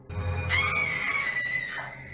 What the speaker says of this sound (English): suddenly a woman's scream is heard